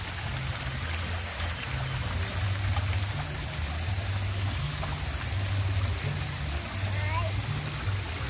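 Water trickles and splashes steadily as children pour it from a small clay jug at a park, with voices murmuring in the background throughout.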